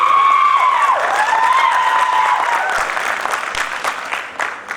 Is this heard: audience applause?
yes